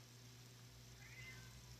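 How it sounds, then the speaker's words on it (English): A cat meows faintly at a door, trying to get in, a couple of soft cries over a steady low hum in a quiet room. "my cat's trying to get in."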